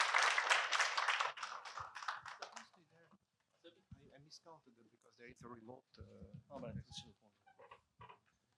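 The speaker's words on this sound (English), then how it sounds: "can you give me a round of applause for the panelists for taking the time to share their knowledge?" Conference audience applauding panelists at a parallel session of PMAC 2025: a loud, dense burst of clapping for about two and a half seconds, fading out before a single voice begins speaking.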